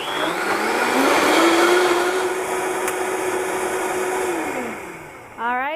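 A blender whirs steadily while blending nut milk with vanilla, a loud continuous motor drone that dips in pitch and winds down near the end.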